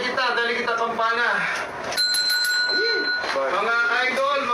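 A bell, rung during a Filipino TV guesting segment, gives a short sustained ringing tone mid-clip, heard between bursts of someone talking loudly.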